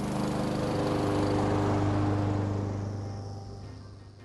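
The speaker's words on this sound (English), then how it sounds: "Turn the fuel valve on to start the lawnmower." A Honda HRX217HYA lawn mower engine runs with a steady, loud drone close by, easing off slightly toward the end.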